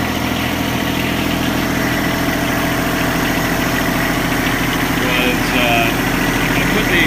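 A John Deere tractor with a 54-inch plow attached and its hydraulics hooked up idles in a steady, continuous low drone with a constant mechanical hum, holding even and fairly loud throughout.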